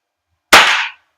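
A single sharp shot from an Action Army AAP-01 airsoft gas blowback pistol, loud and close, with a quick snap followed by a brief hissing decay lasting about half a second, alone with no talk.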